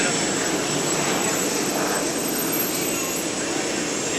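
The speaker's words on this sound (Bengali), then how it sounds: "এই বিমানের মাধ্যমে আমরা যাব রোম সিটিতে।" An airplane engine at Lampedusa before a flight to Rome, a steady, close jet-like roar that holds level throughout the short stretch.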